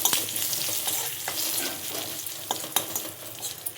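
Curry leaves and turmeric sizzle in hot oil for a tempering of mustard and cumin seeds, a loud, dense crackling fry with sharp pops and stirring scrapes close by, no voices.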